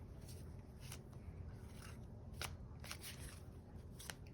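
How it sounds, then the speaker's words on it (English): Close, soft riffling and flicking of tarot cards being shuffled, with repeated quick bursts of papery snaps over a quiet hum. "while I shuffle these cards, get comfy."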